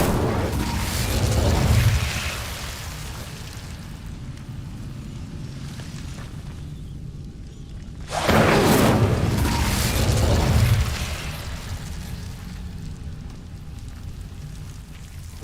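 A booming Incendio fire spell blast from Hogwarts Legacy on Xbox Series erupts in two heavy, rumbling bursts, the second surging loudly midway, with a low roaring tail between them and no talk.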